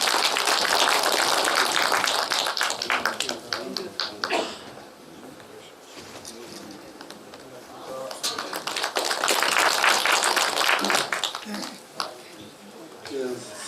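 Audience clapping welcomes a guest at a Korean book launch for a true-story novel, loud sustained applause that dips, swells again, then tapers into scattered claps.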